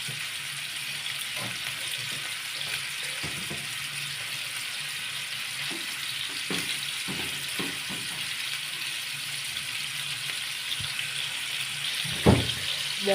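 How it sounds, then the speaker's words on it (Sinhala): Meat sizzling in hot oil in a pan, a steady, even hiss throughout with occasional soft clinks and taps, cooked Sri Lankan style. "මස් එක චුට්ටක් බැදෙන්න ඕනේ තෙල් එකේ."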